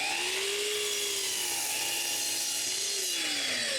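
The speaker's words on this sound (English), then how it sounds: "After cutting a straight end on all these boards, I cut the front to the right width." A table saw cutting wooden drawer-front boards to width, a loud steady whine close by with the pitch dipping and rising as the blade loads in the wood.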